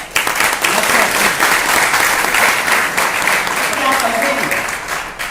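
Loud, close audience clapping at a motivational seminar, a thick wall of applause that begins abruptly and stays strong throughout before easing slightly near the end, with some voices underneath.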